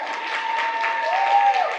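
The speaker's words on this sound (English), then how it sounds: "I think you guys can give me a bigger clap than that" An audience at a health panel breakout session gives a steady round of clapping for the whole short stretch, moderately loud, with a faint tone running underneath.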